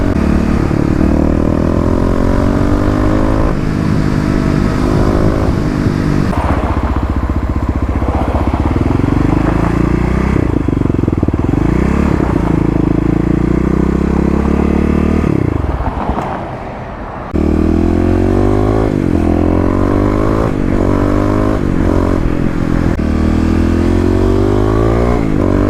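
A fuel-injected Kawasaki KLX351 dirt bike revs hard while being ridden, its loud, close engine rising and falling through repeated gear changes, with a brief drop in the drone near the middle before it climbs again.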